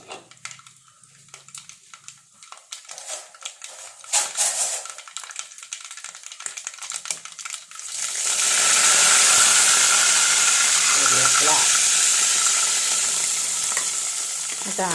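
Mustard seeds frying for jackfruit thoran: scattered popping and stirring clicks at first, then a loud, dense, steady sizzle surges in and holds to the end, no speech.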